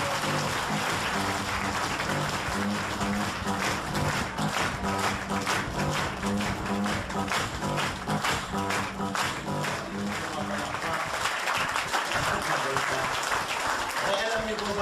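Audience applause greets a presenter being welcomed at a product and marketing plan presentation in Hong Kong, dense clapping running steadily for the whole stretch alongside music-like tonal bands and bits of voices.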